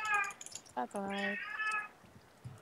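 A cat meows several times in quick succession, drawn-out harmonic cries standing out among brief voices in the background during a multiplayer game session.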